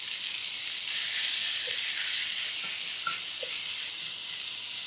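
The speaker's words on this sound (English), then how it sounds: "Keep mixing onions for about 4 to 5 minutes until you see onions getting oily and showing some transparency." Onions fry in oil in a pan, giving a continuous close bright sizzle with a few faint stirring clicks and no voices.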